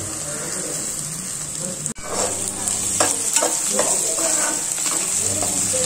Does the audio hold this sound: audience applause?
no